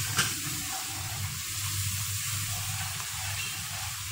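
Water pours steadily into a pan of black pepper chicken gravy, a continuous splashing, trickling stream heard close up throughout with no talking.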